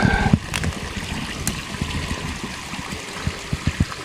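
Water from a spring-fed creek trickles and gurgles steadily close by on rural California land, with small splashes and drips throughout and no talking.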